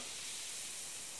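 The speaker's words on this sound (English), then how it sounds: "Can you hear that sizzle?" Fizzy emergency pink lemonade drink sizzles and hisses in water, a steady close, bright carbonated fizz that holds evenly throughout with no talk.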